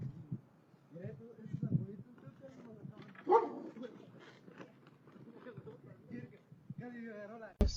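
During a home flood, a dog outside a house lets out scattered barks, yips and whimpers, fairly close and mixed with people talking, and a sharp loud burst comes at the end.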